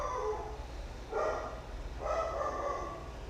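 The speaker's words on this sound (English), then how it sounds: "You may or may not hear my dog in the background." A pet dog named Aria barks and yips faintly in the background of a quiet room, three soft separate vocalisations about a second apart, distant and muffled.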